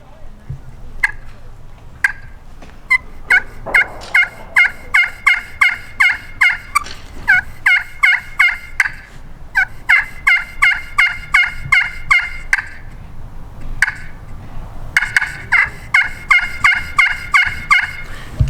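A turkey hen calls loudly in rapid bursts of sharp, excited yelps, repeating in quick clusters with brief pauses between.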